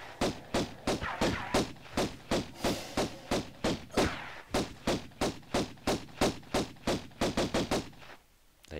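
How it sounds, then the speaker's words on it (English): Pistol shots in the original Tomb Raider game during a fight in the Cistern level, about two dozen sharp, loud reports fired in a steady, rapid rhythm, nearly evenly spaced, before a brief pause at the end. "roll off the edge and pull out your pistols, and then fight Pierre, like this."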